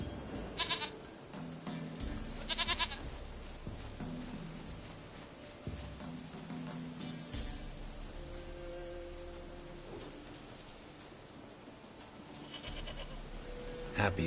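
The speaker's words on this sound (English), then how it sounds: "Goat of mine, dearest," Goat bleats in The Witcher 3 video game, a few short bleats near the start and near the end over a steady bed of game ambience and music-like tones.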